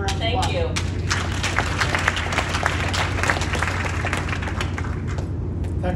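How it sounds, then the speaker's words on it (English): Applause with scattered claps and thuds rises from a gathered group, steady and fairly loud, with a low hum beneath and voices mixed in. "Give her a round of applause"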